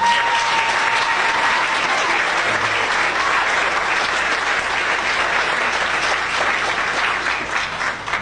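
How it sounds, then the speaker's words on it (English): Loud, steady applause from a large audience, continuous clapping that fills the whole stretch and tapers slightly near the end. "Give her a round of applause."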